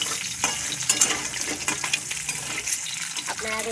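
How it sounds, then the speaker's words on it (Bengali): Eggs frying and browning in a pan for a Bengali egg curry with kagzi lime, a steady close hiss with scraping stir sounds throughout. "ডিমগুলো ভাজা হচ্ছে, আপনারা দেখতে পাচ্ছেন ডিমগুলো একটু লাল করে ভেজে নেব।"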